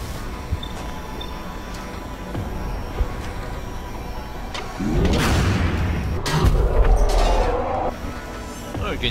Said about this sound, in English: You can hear the guns explode.